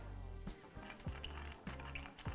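A whisk beats tahini dressing with maple syrup, salt and pepper in a bowl, giving close, rhythmic metallic clinks and scrapes that repeat every half second or so against a quiet kitchen background.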